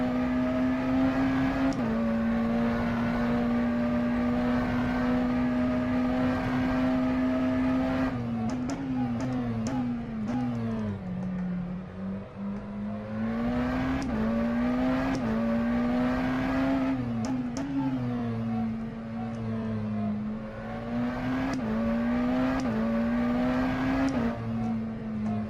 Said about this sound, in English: Trying to let you hear the engine as well.